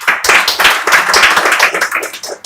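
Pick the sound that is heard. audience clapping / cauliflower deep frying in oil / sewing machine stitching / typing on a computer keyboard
audience clapping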